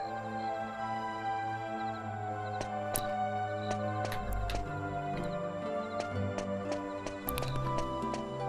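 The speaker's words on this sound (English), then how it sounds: "Hi, horse." A horse's hooves clip-clopping in Dragon Quest VIII, sharp intermittent hoofbeats over a sustained musical backdrop with a low thump partway through.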